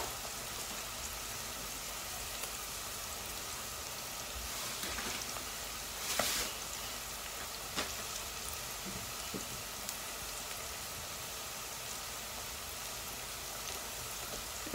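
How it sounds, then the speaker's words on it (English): Crushed garlic and finely chopped onion fry in hot oil, giving a steady, close crackling sizzle with a few louder pops and no voices. "Here you need oil and half of a garlic crushed and one onion chopped into small pieces. Fry it until golden brown."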